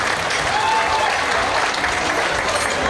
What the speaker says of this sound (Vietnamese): Chúng tôi xin được mời quý vị cùng chúng tôi một tràng pháo tay thật to, thật kêu và thật dài